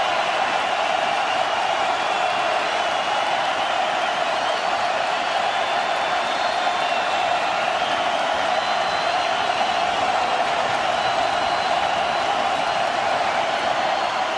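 A very loud, boisterous crowd at a 2011 college football semifinal between North Dakota State and Georgia Southern roars steadily throughout, with a dense, continuous wash of voices, cheers and whoops and no break.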